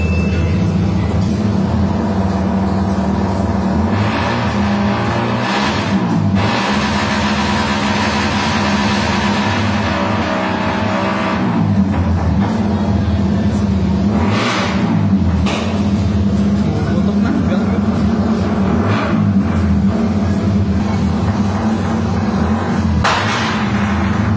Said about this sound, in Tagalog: Overgas tayo kasi loaded yung motor.